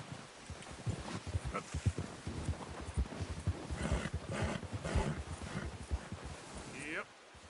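Horse galloping in a PS4 adventure game, with rapid rhythmic hoofbeats and clip-clop thuds across the scene, joined by a brief animal cry toward the end.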